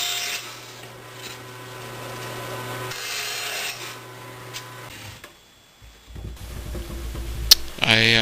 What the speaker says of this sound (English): I need to trim the corners off of my plywood bottom